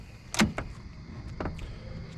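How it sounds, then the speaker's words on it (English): Driver's side door of a 2012 Dodge Charger R/T opening at night, a sharp latch click followed by a second thunk and later another click, fairly close with no talking. "Open up the driver's side door."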